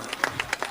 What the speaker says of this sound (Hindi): एक बार जरा जोरदार तालियां बजाइए।